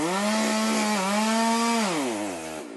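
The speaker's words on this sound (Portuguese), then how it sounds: "Usaram uma motosserra para cortar a lataria do ônibus" A chainsaw cuts through the metal body of a crashed bus in roadside vegetation, a loud, close, sustained engine whine that holds steady, then drops in pitch as the cut finishes.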